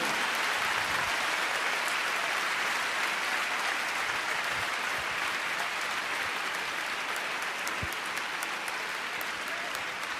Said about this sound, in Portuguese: Vamos aplaudir o Senhor, Ele é digno